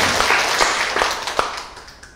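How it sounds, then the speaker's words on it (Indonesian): Brief scattered clapping from a small audience in a church women's Bible quiz, light and uneven, fading within about two seconds. "Tepuk tangan untuk grup A"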